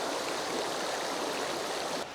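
River water pours over a concrete crossing and forms a riffle, a steady loud rushing and gurgling that stays continuous, slightly easing near the end.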